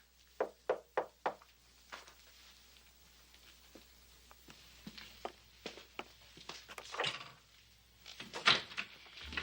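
Knocking on a door: a quick run of four sharp raps near the start, then scattered fainter taps and a louder thump near the end, with no talk.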